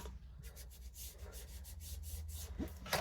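Soft, rapid rubbing and dabbing as ink is applied to the paper edges of a junk journal bag, the brushing strokes coming in quick repeated bursts, quiet and close with no talking.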